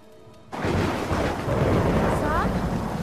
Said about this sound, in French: Je sais pas si vous avez marqué, mais il pleut, Sam